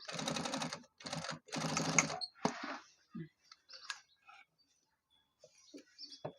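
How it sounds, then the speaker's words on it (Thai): Bursts of a sewing machine chain-stitching the hem of cut jeans, several quick rapid runs of stitching in the first half, followed by quieter clicks and small handling sounds close by. "เดี๋ยวพี่รีมาเย็บยึดตรงนี้ก่อนนิดนึง เพราะว่าตัวนี้มันเป็นแบบเย็บลูกโซ่นะคะ"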